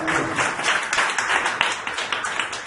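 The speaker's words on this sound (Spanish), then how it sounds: "Dale un aplauso bien fuerte al Señor," Church congregation clapping, a continuous, fairly loud patter of many hands with some rhythmic accents, no voices standing out above it.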